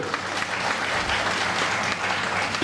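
Loud, continuous applause from a large crowd giving a standing ovation at the closing of the Kurnool Utsav festival, dense and sustained without pause.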